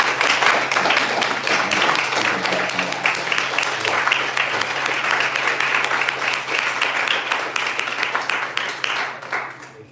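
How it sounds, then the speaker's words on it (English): Loud, sustained applause from an audience at an artist talk in the Art of Noize exhibition, a thick wash of many hands clapping close by over a low steady hum, thinning slightly near the end. "Can we give a round of applause for Luther Wright"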